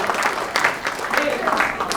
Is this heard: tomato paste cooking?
no